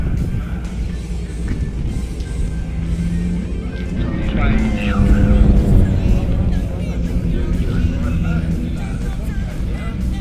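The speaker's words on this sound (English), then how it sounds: "Subaru WRX STI. This STI is set up for asphalt rallying." A Subaru WRX STI asphalt rally car runs at a hillclimb, its engine a gritty mid-distance roar that swells and rises as it passes, mixed with outdoor crowd noise and a voice talking over it.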